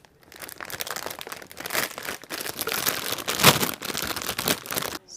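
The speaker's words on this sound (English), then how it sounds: "I'm going to take all the parts out of the bag." Plastic packaging for a Bandai Pokémon model kit crinkles and rustles up close in irregular bursts as parts are pulled out of the bag, with a louder crunchy tear midway and no talk.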